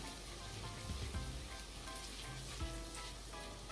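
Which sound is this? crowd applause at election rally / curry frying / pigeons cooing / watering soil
curry frying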